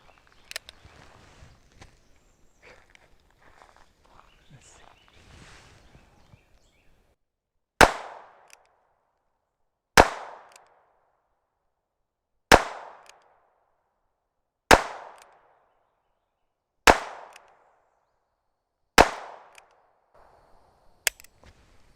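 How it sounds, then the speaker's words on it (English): Six sharp, loud gunshots from Ruger Wrangler and Ruger Single-Six revolvers fired at targets, evenly spaced about two seconds apart after a stretch of quiet rustling and handling noise, each crack ringing out briefly. "We're going to shoot the target on the right with the Wrangler, target on the left with the single 6"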